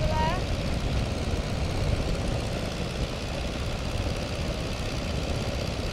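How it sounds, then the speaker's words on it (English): The engine of a Tiger Moth biplane in flight gives a loud, steady, broadband drone with a rushing wind roar that fills the whole stretch, and a voice is faintly audible under the noise. "You are actually flying this biplane."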